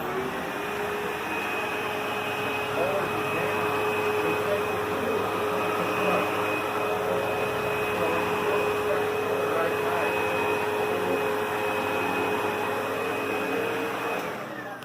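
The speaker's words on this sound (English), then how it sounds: "it will raise and lower the height of the vacuum cleaner depending on how much resistance the brush roll is feeling" A Sebo upright vacuum cleaner runs with its brush roll spinning, giving a steady, unbroken motor roar with a constant high whine throughout, close and moderately loud.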